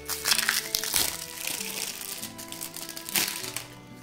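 Cards from the Althing board game are shuffled and handled up close, giving crisp papery crinkles and rustles with a few sharper snaps, continuous through the stretch with no talk.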